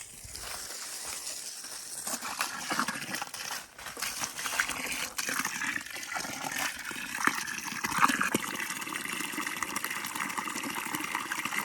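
Water from a garden hose running into a container of homemade Jadam liquid fertilizer, a steady gushing splash with some crinkly handling noises, fairly quiet and continuous.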